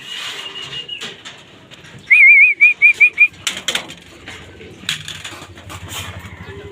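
Racing pigeons return during a training flight with several sharp bursts of wing flapping and rustling at close range, alongside a short, loud warbling whistle and scattered thumps in a fairly quiet outdoor setting.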